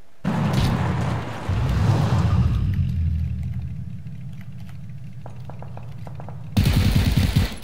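Video game gunfire in PUBG makes a loud, sustained burst of rumbling shots that thins out and fades, then a sudden heavy blast returns at the end, with no voices.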